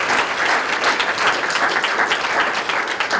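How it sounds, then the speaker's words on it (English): A loud, dense round of audience applause at a leadership summit, with many hands clapping continuously and evenly and no pause. "but a round of applause."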